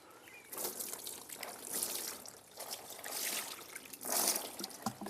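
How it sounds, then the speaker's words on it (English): Cured meat is rinsed under running water to wash off its salt, giving an uneven trickling and splashing that swells and fades in several bursts, close by, with no talking. "we're just going to rinse it over here Okay. and get this salt off of it."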